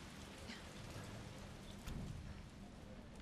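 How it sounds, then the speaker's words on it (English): Steady rain pattering outside a window in the Resident Evil 3 video game, a dense continuous hiss of drops with low rumbling underneath and a brief swell near the end. "keep out that rain"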